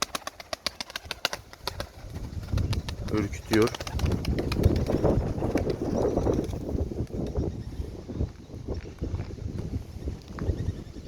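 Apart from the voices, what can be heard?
doves cooing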